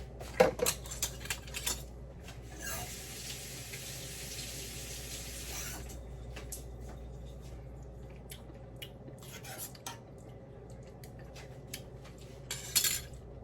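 Seasoning being stirred into a meatball mixture for a stuffed meatball sub, heard as close clinks of utensil against a bowl with wet squishing and a steady rush of running tap water, no talking.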